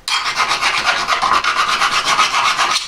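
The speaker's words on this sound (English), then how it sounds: "Change my file, half round file," A half round file rasping on metal while a curve is shaped for fitting coilovers on a Nissan Bluebird, steady rhythmic strokes about five per second, close and loud with no talk.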